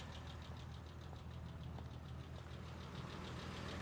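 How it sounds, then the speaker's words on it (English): A 1970 Jaguar E-Type Series 2 open two-seater engine idles steadily at about 700 rpm, a continuous even low rumble with a faint regular ticking pulse, close by and with no voices. "The idle's steady at about 700."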